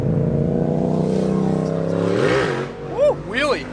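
A C5 Corvette with a Billy Boat Bullet axle-back exhaust droning at steady revs, then sweeping up and down with a few louder rev bursts near the end; voices can be heard talking over it.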